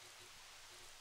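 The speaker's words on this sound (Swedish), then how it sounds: "Det började regna." Rain falls in the video game Jurassic World Evolution as a faint, steady hiss of drops with no clear beat, a soft even wash that does not change across the moment. A voice may murmur faintly underneath.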